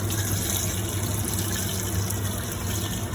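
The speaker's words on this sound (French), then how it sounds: "Je rajoute de l'eau pour couvrir." Hot water poured into a pot of about four large carrots for couscous, a steady loud rushing stream running unbroken throughout with no talk.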